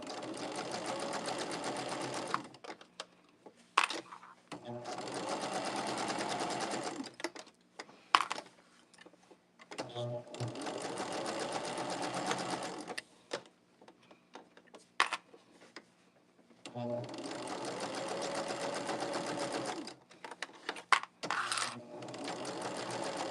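Domestic sewing machine back stitching along a quilt border, running in several steady rapid bursts separated by short pauses with occasional clicks and clunks, close and clear with no talking.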